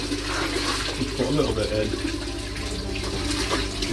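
Water runs steadily into a garden pond as it is topped up, a continuous close splashing and gurgling under a person talking.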